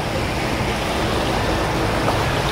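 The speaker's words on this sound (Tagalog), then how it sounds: "Malakas yung agos." A strong river current rushes past close by, a steady dense broadband roar of flowing water with no breaks, loud and continuous.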